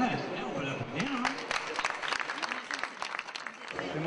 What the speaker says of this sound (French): Ouais, c'est bien, on peut l'applaudir.